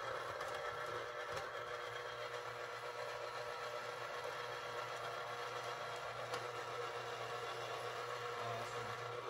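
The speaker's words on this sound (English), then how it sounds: "so here's the juicer. We'll be juicing it. When you press down, it starts spinning." Electric juicer spinning steadily while juicing onions, a continuous motor whir with a low steady hum that holds at an even level throughout, close by and with no voices.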